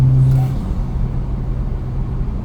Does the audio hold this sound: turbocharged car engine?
yes